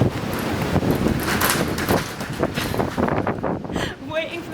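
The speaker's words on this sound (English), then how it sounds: "Waiting for the train and it's just a little bit windy." Gusty wind buffets the microphone on a train station platform, a loud, rough rumbling roar that swells and eases over a few seconds with no clear voices.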